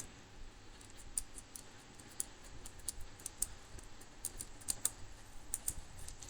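Computer keyboard typing during a Linux command-line install, quiet steady irregular key clicks, close and alone with no voices.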